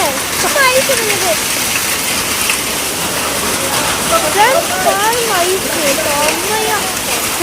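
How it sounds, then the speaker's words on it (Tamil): Heavy rain mixed with hail in Bangalore, a loud, dense, continuous roar of water splashing on surfaces, with a person talking over it throughout. "நீங்களும் இங்கே வந்தீங்கன்னா இப்படி மழை பெய்யும்ல, நல்லா இருக்கும்ல"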